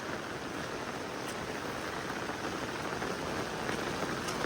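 Steady rain pouring down outdoors in a rural setting where a native pig is kept, a dense, unbroken hiss of drops on surfaces lasting several seconds with no voices.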